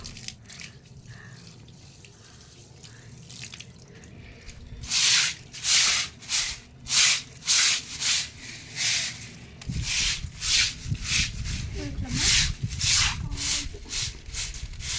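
A rhythmic series of about a dozen rough, wet scrubbing strokes clears dust from a freshly painted surface with water during home preparations for a wedding. The strokes are close and fairly loud, with water sounds underneath.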